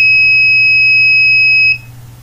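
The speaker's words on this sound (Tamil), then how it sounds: "அந்த பீப் சவுண்ட் ஸ்டாப் ஆகி கேட்குது பார்த்தீங்களா" An Arduino buzzer programmed with a delay between beeps sounds a shrill, steady tone close by, then cuts off abruptly near the end, leaving only a faint low hum.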